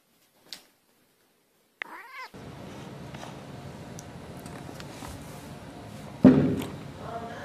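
A cat meows and caterwauls indoors among household thumps and footsteps, a sharp louder cry near the end over steady background noise; a person speaks briefly.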